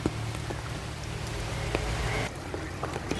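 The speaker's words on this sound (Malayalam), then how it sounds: "എന്തായാലും ചെറിയൊരു ചാറ്റൽ മഴ കിട്ടുന്നുണ്ട്" Light drizzle pattering onto garden plants, a steady soft hiss of small drops with a few sharper ticks. It stays close and moderately quiet and eases slightly near the end, with no voices.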